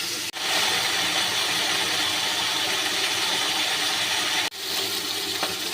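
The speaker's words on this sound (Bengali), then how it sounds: "মাছটা লাল লাল করে ভেজে নেব।" Pomfret fish frying in hot oil in a kadai, a loud, steady broadband sizzle that runs nearly unbroken, with two brief dips where the hiss drops out momentarily before resuming.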